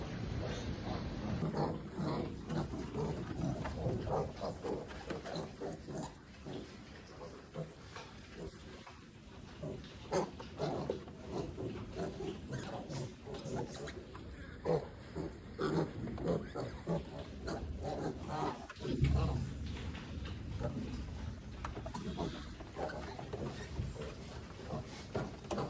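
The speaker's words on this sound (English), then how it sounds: "Starting the pigs out on a little bit of feed." Five-day-old piglets grunt and oink steadily while being started on their first feed, a continuous close chorus with occasional knocks of pen or feeder and no talk.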